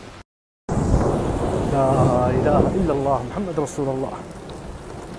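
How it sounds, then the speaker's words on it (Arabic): Steady rain and hail pour down outdoors in a broad, continuous hiss, while someone speaks and chants in Arabic close by over the downpour. "أمطار وبرد شيء يرد الروح"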